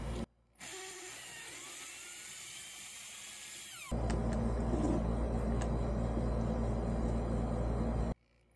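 A small hand chuck drill whines steadily, then shifts to a louder, rougher grinding as it bites into a Vespa SI carburetor's float passage, continuous for several seconds before stopping.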